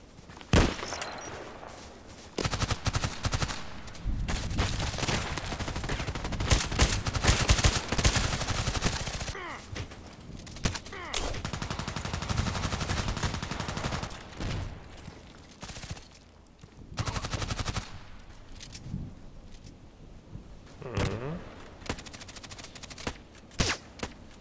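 FN SCAR-H rifle fire in the shooter game Contract Wars, with repeated loud automatic bursts and single shots spread over the stretch, broken by quieter gaps with footsteps and occasional talk.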